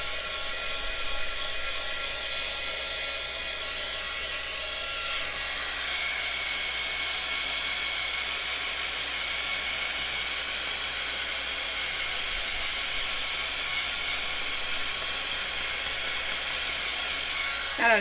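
A heat tool blows a steady, even hiss as it dries freshly applied ink on paper during stamping, close and continuous for the whole stretch with no pauses.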